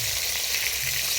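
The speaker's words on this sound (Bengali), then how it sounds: "রুই মাছ টকের জন্য ভাজা হচ্ছে" Rohu fish pieces frying in hot oil for a sour curry at an outdoor picnic cookout, giving a steady dense sizzle with a faint low rumble beneath, continuous and close throughout.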